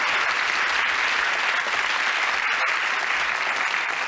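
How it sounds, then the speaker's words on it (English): Studio audience on the 1992 Bullseye game show applauds its contestants, a steady, dense wash of clapping that holds loud and even throughout with no talk over it. "Give them a warm round of applause. Our contestants on Bullseye."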